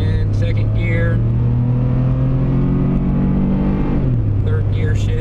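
A Ford F150 EcoBoost pickup, fitted with an aftermarket intercooler, pulls hard from a standstill. Its engine drone rises steadily, then drops at a gear change near the end, loud and close, with a voice talking over it.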